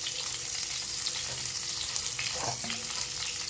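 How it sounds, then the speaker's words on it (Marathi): Stuffed brinjals frying in hot oil in a pan, a steady close sizzle with a brief stir or clatter partway through, no voices. "दोन मिनिटं फक्त आपल्याला ही तेलामध्ये परतून घ्यायचे आहे."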